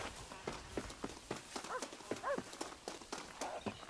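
Horse hooves clip-clop at a steady trotting rhythm in the Western video game Red Dead Redemption, moderately close, with a couple of brief whinny-like calls mixed in.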